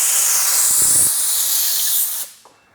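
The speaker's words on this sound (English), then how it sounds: "I got a little blowgun here. It's got a metal tip, narrow. We're going to try and blow the rail out" A compressed-air blowgun with a narrow metal tip blasts through the rail of a chainsaw bar on a firewood processor, a loud, steady hiss lasting about two seconds before cutting off, followed by a brief faint puff.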